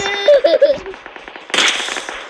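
Gunfire in the video game PUBG crackles as a sharp burst of shots in the second half, after a voice speaks over the first part.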